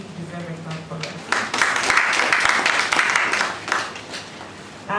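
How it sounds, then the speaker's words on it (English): An audience at a survey presentation breaks into brief applause, a dense patter of clapping that swells for a few seconds and fades, with a speaker's voice before and after. "I think you deserve a clap for that."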